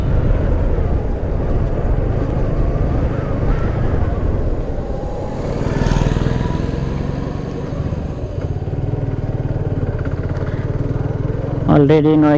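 Suzuki Gixxer carburetor motorcycle, a 2023/2024 model, riding along with a steady engine drone held at low RPM and broad wind rush throughout, with a brief higher tonal sweep near the end.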